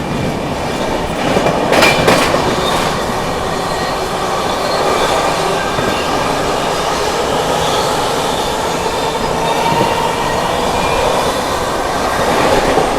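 Seemanchal Express running at speed past the Sarnath Express, a steady loud rumble of wheels and coaches with rhythmic clatter throughout, brief screeching bursts early on, no voices.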